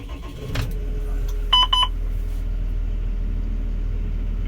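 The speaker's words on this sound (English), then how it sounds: "So now if we start the tractor" A Fendt tractor engine starts with a short cranking burst and then settles into a steady low rumbling idle. A few faint electronic beeps sound soon after.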